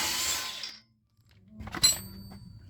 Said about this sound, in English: I can use an impact gun to lose it.